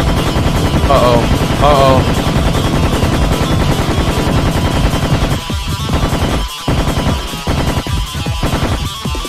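Dense, loud automatic gunfire in the Serious Sam video game keeps up almost nonstop, with brief gaps late on and a short spoken exclamation early.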